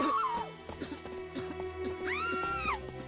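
A horse in The Witcher 3 Next-Gen whinnies loudly at the start, snorts and stamps through the middle with hoof clip-clops, then gives a second long, rising-and-falling neigh close up.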